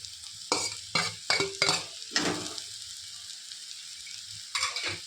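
Grated coconut and banana flower are sautéed in a pan, a soft background sizzle broken by several sharp bursts of spatula stirring and scraping, close and clear.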